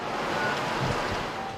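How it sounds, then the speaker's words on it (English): Rough sea with heavy swells at Heng Fa Chuen on eastern Hong Kong Island during Typhoon Koinu, a continuous loud roar of crashing surf mixed with gusting wind buffeting the microphone. "Waves are rough with swells."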